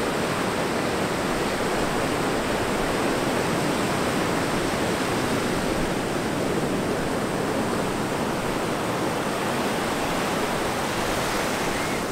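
Sea surf churned up after Hurricane Matthew, a dense continuous roar of breaking waves and rushing water, loud and steady throughout with no voices.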